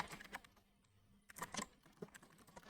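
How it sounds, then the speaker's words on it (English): Keys clatter on a computer keyboard while entering a spreadsheet formula, quiet close clicks in short irregular bursts with a brief pause in the middle. "So let's start typing."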